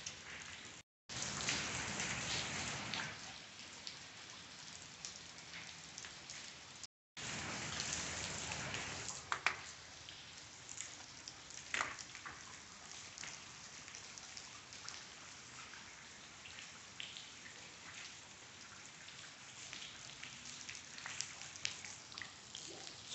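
Water dripping from the ceilings of an abandoned, flooded spray paint factory in Connecticut, a steady patter of drops and trickles echoing close by, louder in the first few seconds, with brief dropouts to silence.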